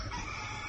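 A rooster crows in a short, loud, dense burst that fills the whole moment, with no talk over it.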